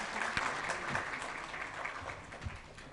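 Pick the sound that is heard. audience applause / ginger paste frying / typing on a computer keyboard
audience applause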